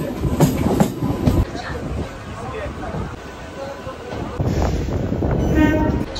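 Train sounds at Howrah railway station in a busy platform mix of rumbling carriages and clattering wheels, with a horn-like tone near the end and voices talking over the steady crowd noise.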